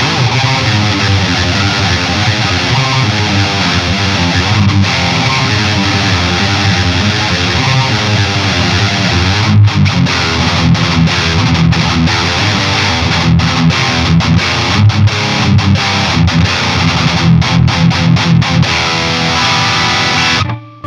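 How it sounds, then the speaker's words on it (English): Loud, heavily distorted electric guitar, a 2022 Squier Affinity HSS Fat Strat through an amp's overdrive, playing continuous chugging metal riffs, with rhythmic palm-muted stabs and short pauses in the second half. "hit the front of the amp with the overdrive and see if we can get some metal tones"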